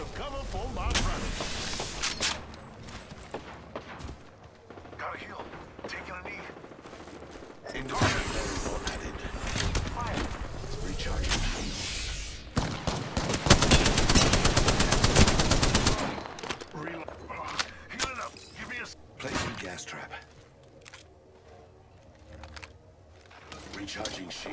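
Rapid gunfire in the Apex Legends battle royale game, bursts of automatic shots and loud crackling blasts rising mid-clip amid mechanical clicks, with a voice calling out over the fighting.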